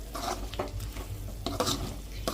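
Garlic chicken fry sizzles in a pan under steady frying, broken by repeated scraping stirs of a utensil against the metal, close and fairly loud.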